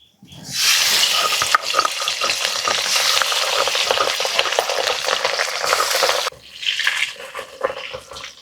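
Pabda fish frying in oil, a loud dense crackling sizzle close up that runs steadily, then drops briefly and returns more softly near the end.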